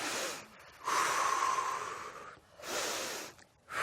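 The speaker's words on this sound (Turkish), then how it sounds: "8 kere nefes alıp veriyoruz" Slow, audible breaths close to the microphone, a long airy inhale and exhale followed by another, with brief pauses between.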